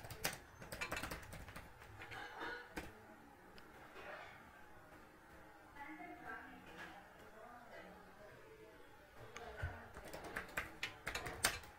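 Keys on a computer keyboard tapped in short bursts while commands are entered into a Python shell, the clicks moderately close and heard mostly in the opening and closing seconds, with someone talking over much of it.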